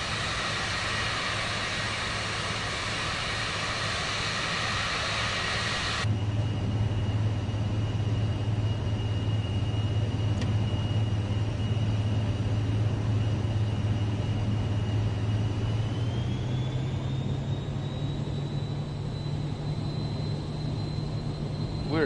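A Vision Jet G2 taxiing in Microsoft Flight Simulator 2024 gives a steady jet hum and whine. The tone changes abruptly early on, then a high whine climbs and levels off near the end, with no speech.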